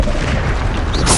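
A Bombarda spell explosion in Hogwarts Legacy lands as a single loud, deep boom that fills the whole short moment, ending in a brief crackling hiss.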